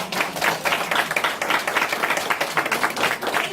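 A show audience applauds the volunteers with brisk, steady clapping from many hands, a sustained busy patter that holds at an even level throughout.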